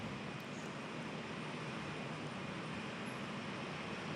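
ATR 72-500 turboprop airliner arriving at Perth, a steady broadband engine roar heard from a distance, constant and even across the whole stretch.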